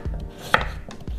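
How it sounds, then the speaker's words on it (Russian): Knife chopping carrot into fairly thick rounds for a summer vegetable soup: three or four firm, close thuds on a cutting board at an uneven pace, with one sharper click midway and no talk. "Морковь режу достаточно крупно."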